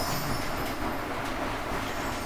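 Train rumble from the Spyro video game's Icy Flight level, a steady low rolling rush with faint rail clatter, continuous and fairly loud throughout with no talk over it.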